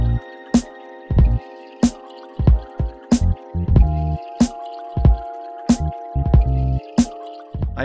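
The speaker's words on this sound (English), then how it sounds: "it's just a matter of pumping until the fluid is in your tube" Repeated wet squelching drips and squishes, roughly one every half second, close and distinct, as brake fluid is pumped through a bleed screw into a small tube, with no talking.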